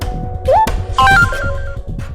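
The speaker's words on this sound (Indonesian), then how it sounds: "Malah handphone Mama yang bunyi." A mobile phone rings with an electronic ringtone, two short bursts of bright tones over a steady low background bed, with no talk.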